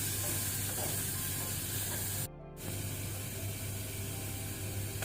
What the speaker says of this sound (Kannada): ಟೊಮೆಟೊವನ್ನು ಸ್ವಲ್ಪ ಒಂದು 40 ಸೆಕೆಂಡ್ ನಾವು ಫ್ರೈ ಮಾಡ್ಕೊಳ್ಳುವ